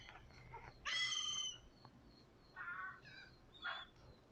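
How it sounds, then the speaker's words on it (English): Seagulls calling outdoors at Mallory Square in Key West, a few separate harsh, nasal cries spaced over several seconds, moderately close, with no talking. "Oh, now we have some seagulls in the mix too."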